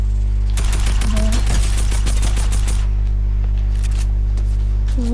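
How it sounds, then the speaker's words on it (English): Rapid automatic gunfire from the Fortnite video game rattles in dense, loud bursts for a couple of seconds, then thins to scattered shots over a steady low hum. "I'm getting shot at from behind."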